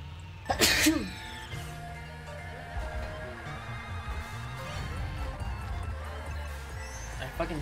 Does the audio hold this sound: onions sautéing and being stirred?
no